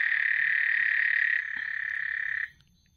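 A frog trills in a steady, loud, continuous croak for about two and a half seconds, then stops abruptly, heard close up outdoors near a small cat-eyed snake.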